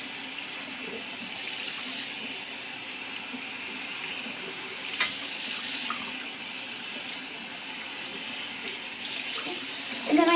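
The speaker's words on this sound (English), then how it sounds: "you want to rinse with that same cool water, and I just gently let it fall over the fibers" Cool water runs steadily from a tap over a wig's fibers during a rinse, a soft continuous hiss and splash close by with a few small shifts in flow.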